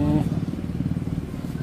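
Motorcycle engines idle close by in steady low throbbing pulses, with a brief voice at the start.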